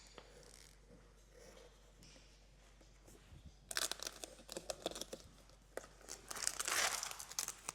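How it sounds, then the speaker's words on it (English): Vinyl wrap film on a mirror is ripped by hand. After a quiet start, a series of crisp tearing and crinkling bursts comes close to the microphone. "just gonna rip it because I don't want to cut my knifeless tape there"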